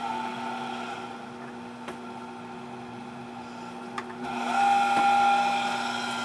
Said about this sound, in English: you can hear the motor inside.